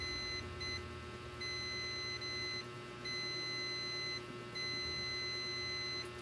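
A multimeter's continuity buzzer emits a steady high-pitched tone in several stretches while testing a shorted MOSFET on an Asus RX570 graphics card, cutting off briefly between them, over a low background hum.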